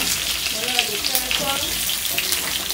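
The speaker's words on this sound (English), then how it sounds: "Give it to fry out now guys." Pork sizzles and crackles steadily in a hot pan, with a voice speaking faintly in the background.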